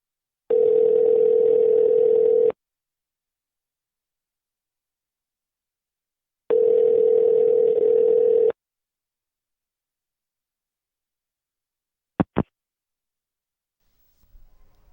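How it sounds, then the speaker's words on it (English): A telephone ringback tone sounds in two long steady bursts with a pause between them, then brief dialing beeps follow in a recorded phone call, clean and isolated against silence. "In this recorded phone call"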